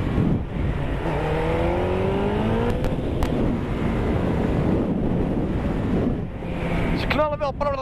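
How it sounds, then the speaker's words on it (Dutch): A motorcycle exhaust revs in rising surges while riding, buried under heavy wind rush at the microphone, with a few sharp pops and a higher climbing rev near the end. "Maar deze uitlaten maken ook niet zo heel erg veel geluid hoor."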